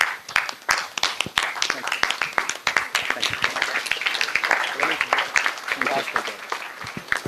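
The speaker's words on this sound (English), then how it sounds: "Just all stand up with a round of applause." Standing ovation from students at a B.Tech orientation, brisk overlapping claps from a large hall audience, fairly loud and sustained, with scattered voices.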